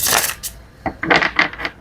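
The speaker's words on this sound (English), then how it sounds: "now let's shuffle the cards" A tarot card deck being shuffled close by, heard as a few quick papery riffling bursts and soft clicks with brief gaps between them.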